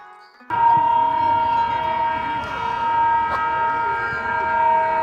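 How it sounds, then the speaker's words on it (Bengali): A mini train ride at a municipal children's park in Sirajganj sounds a loud, sustained, siren-like electronic tone with layered pitches. It starts abruptly after a short quiet moment and holds steady to the end. "এটা হচ্ছে মিনি ট্রেন এটাও একটা রাইড"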